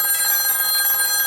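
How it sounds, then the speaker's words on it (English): Telephone ringing at a hotel front desk, a steady continuous electronic trill filling the short moment, loud and alone with no talk. "This phone here will ring."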